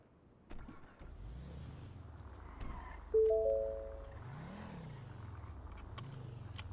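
A Lamborghini engine in a video game idles low and rises in several swelling revs, with a brief chime partway through, moderately loud throughout.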